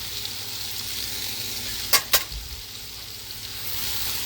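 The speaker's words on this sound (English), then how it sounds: "We're going to give those a quick saute. In the butter." Mushrooms and tomatoes sauté in butter in a pan with a steady, soft sizzle, and two quick utensil clacks land near the middle.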